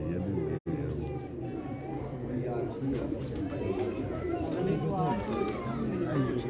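Pigeons on a Lahore rooftop coo and flutter in a steady busy wash of bird sound, with people talking throughout and a brief dropout near the start.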